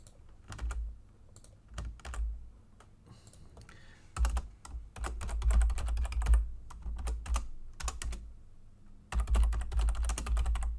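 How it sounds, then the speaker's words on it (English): Someone types on a computer keyboard in quick bursts of crisp keystrokes separated by short pauses, close and clear with no talking. "what I'm typing is I've decided to make it an extension."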